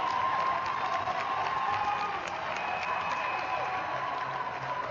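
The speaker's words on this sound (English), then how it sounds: "the crowd is now getting into it" Ice hockey arena crowd at a high school JV state championship game, a dense steady roar of cheering and shouting that fills the rink, with a commentator's voice faintly underneath.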